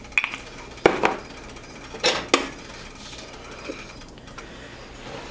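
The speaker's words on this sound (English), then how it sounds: "And I just kind of scramble this up." A utensil scraping and clinking in a pan while scrambling breakfast burrito filling, with a few sharp metallic taps and scrapes spaced irregularly over a low, steady background, close and moderately quiet.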